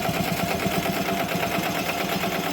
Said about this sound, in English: It's stitching out perfect,